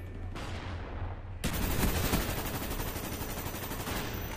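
Sustained automatic gunfire in a multiplayer video game shooter, a dense, loud stream of shots that starts abruptly and keeps going to the end.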